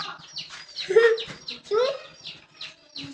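Hens cluck and squawk in short repeated bursts nearby, with a few faint chirps between them.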